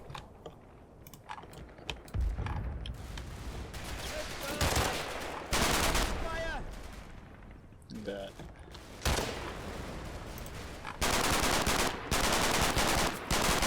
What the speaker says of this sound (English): That's a bit of suppressive fire from the Sten going out there.